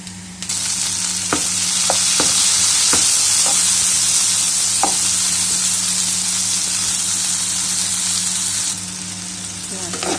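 Shrimp sizzling and browning in a hot pan for a bitter gourd dish, a steady loud frying hiss with a few sharp crackles and pops, running continuously before easing slightly at the end.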